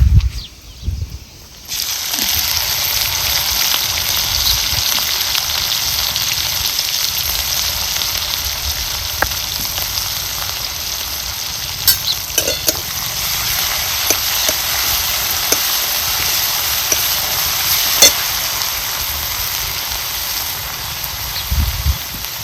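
Ground chutney sautéing in a hot pan, a steady bright sizzling hiss that starts abruptly and holds for over twenty seconds, with occasional small pops and clicks from a utensil.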